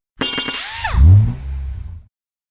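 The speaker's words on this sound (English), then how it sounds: "So I'll go ahead and start it up" A 1994 Chevrolet Suburban engine cranks and catches, with a short starter whir rising into a loud, rumbling start that settles into a steady idle, close and alone, then cuts off after about two seconds.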